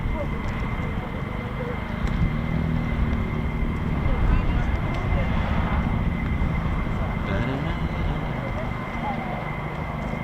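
A military jet at RAF Lakenheath roars in a sustained low rumble during a departure or landing, swelling slightly in the middle and staying fairly distant, with voices audible underneath.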